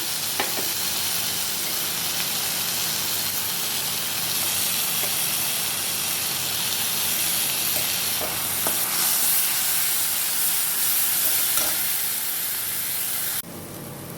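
Spice paste of cumin, turmeric and Kashmiri chili mixed with water sizzles loudly in a hot kadai for fish kalia, a dense steady hiss of frying with faint stirring scrapes throughout, no voices.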